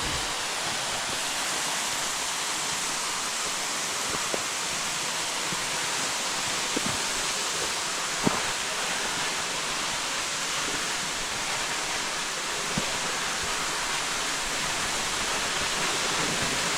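A waterfall in South East Queensland roars in a dense, constant hiss of falling water, steady and loud throughout, with a few faint clicks and no voices.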